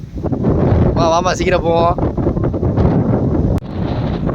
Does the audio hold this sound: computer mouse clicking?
no